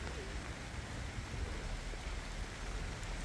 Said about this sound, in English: in this pouring rain.